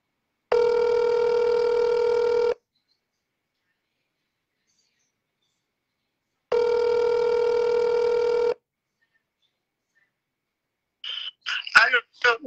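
A phone call is redialed and the ringback tone sounds twice in clean two-second bursts separated by silence, and then a voice briefly answers at the end.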